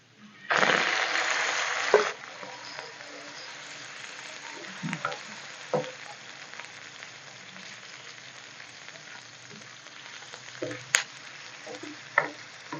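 Chicken liver is dropped onto a hot tawa for a Lahori-style masala, bursting into a loud sizzle for about a second and a half before settling into a steady low frying crackle, with a few clinks of stirring.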